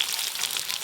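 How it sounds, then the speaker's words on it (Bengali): Potatoes and papaya frying in mustard oil in a pan for a goat-meat and mixed vegetable curry, giving a steady, close hiss and crackle that holds evenly through the short moment with no voices. "ওই তেলেতেই আলু পেঁপে আগে ভেজে নেবো"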